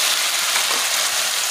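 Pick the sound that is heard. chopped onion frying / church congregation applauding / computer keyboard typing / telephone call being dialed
chopped onion frying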